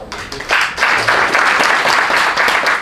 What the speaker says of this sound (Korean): 또 한 번 박수 칩시다.